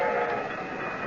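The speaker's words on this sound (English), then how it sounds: "The train was coming closer. I could hear its bell. Heard its cry, its whistle crying." A train draws near in a radio drama scene, its steady rumble and a long sustained whistle tone filling the moment, loud and continuous with no voices.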